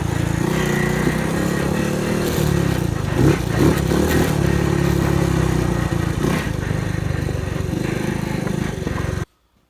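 Kawasaki Mule utility vehicle engine running steadily and loudly as it loops around a yard, with a continuous droning hum, some rattling clatter midway, and a sudden cutoff near the end.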